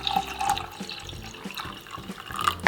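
Milk pours into a cup of coffee in a kitchen, giving a steady close trickling and gurgling of liquid for a couple of seconds with no voices.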